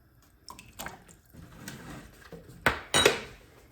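Vinegar poured into hot, not yet boiling water in a pan on a stove for dyeing yarn: a few faint liquid trickles and soft clinks, then two sharper, louder metallic clatters near the end, close by.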